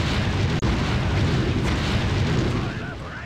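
Cannon fire and explosions from the Anno 1602 strategy game form a loud, continuous rumbling barrage with a sharp break near the start, steady then fading slightly at the end.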